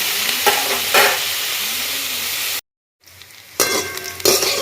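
Bitter gourd pieces fry in hot oil until golden brown, giving a steady close sizzle broken by repeated stirring scrapes and clinks of a utensil, then a brief gap before the frying and stirring resume.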